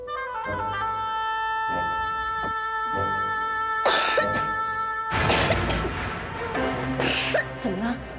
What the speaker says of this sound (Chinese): 咳嗽声又这么重